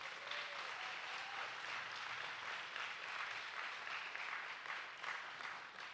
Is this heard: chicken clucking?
no